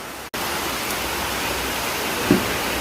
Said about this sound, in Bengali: কত জোরে বৃষ্টি নেমেছে